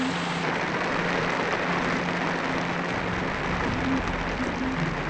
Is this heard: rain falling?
yes